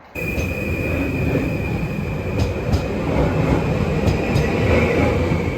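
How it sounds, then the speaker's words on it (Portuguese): A train rumbles past on an icy day abroad, a loud, continuous roar of rolling wagons with a sustained high whine and occasional metallic clicks from the wheels, close by and steady throughout. "O trem fazendo barulho."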